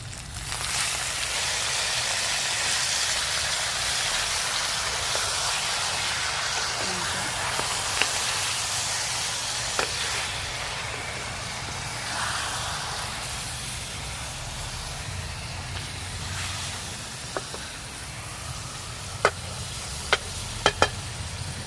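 Chicken cooking in a pan for Bicol Express gives a soft, steady sizzle and hiss, broken late by a few sharp utensil clicks, close and moderately quiet, with no voices.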